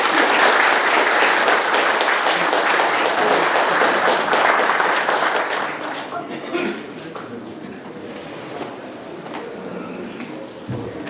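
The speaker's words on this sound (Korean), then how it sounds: "뜨거운 박수로 무대 위로 모시겠습니다" Warm audience applause welcoming a speaker to the stage at a security lecture, loud and dense for about six seconds, then thinning to scattered claps and room noise.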